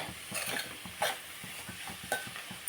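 Cabbage and coconut fry curry being stirred in a pan, a spoon scraping in soft repeated strokes with a faint sizzle beneath and a couple of sharper clinks against the metal.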